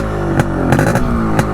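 A restored stock Yamaha RX135 motorcycle, just kick-started with one kick, runs close by at a steady loud idle with a few brief throttle blips and mechanical clatter.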